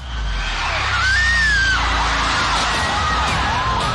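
A crowd at an outdoor concert screams as a violent storm with 112 km/h winds wrecks the stage, a loud continuous wash of distant shrieks with one piercing scream rising above the roar of wind and noise.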